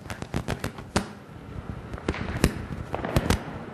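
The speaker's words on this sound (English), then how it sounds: "I can, of course, hear the crackers right outside the studio at this moment." Rapid, irregular crackling bangs of Diwali firecrackers going off outside in India, sharp pops scattered over a continuous rumbling background.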